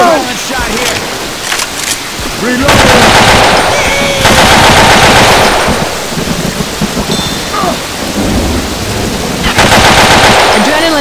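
Rapid video-game gunfire, dense bursts of shots crackling loudly through a busy battle mix, with heavy stretches around the middle and end, set against rumbling background effects and occasional player voices.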